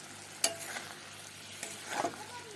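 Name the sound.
stirring palak paneer after adding kasuri methi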